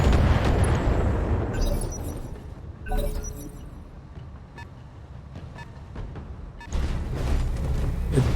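Weapons fire and explosions in the BattleTech mech combat game: loud, dense blasts with a sharp burst near three seconds, a quieter rumbling stretch, then another heavy surge of fire.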